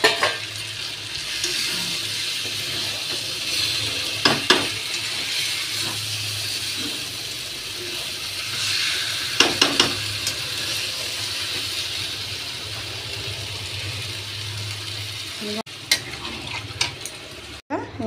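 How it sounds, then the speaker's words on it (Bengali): Prawns sauté in a pan, a steady moderate sizzle with scattered scraping and stirring clicks, continuous and fairly close, with a short break near the end. "এবারে দেবো চিংড়ি মাছটা দিয়ে একটু কষে জল দেবো"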